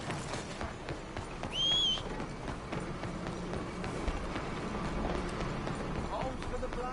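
Horse hooves galloping in the open-world western game Red Dead Redemption 2, a steady rhythmic clip-clop under game ambience, with a bird chirp and a voice speaking briefly.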